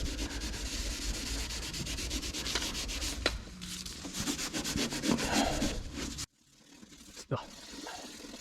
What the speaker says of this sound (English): Just going to put some apply some of it to this Scotch Brite I've got here